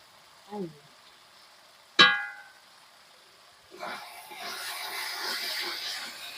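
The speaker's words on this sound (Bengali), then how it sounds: "বারবার ভালো করে নেড়ে চেড়ে মশলাটাকে কষিয়ে নিতে হবে" Turmeric and coriander masala fried and stirred in a pan while cooking a kuche fish (eel) dish, with an early clang of a utensil, then a steady sizzle and scraping from about the middle onward.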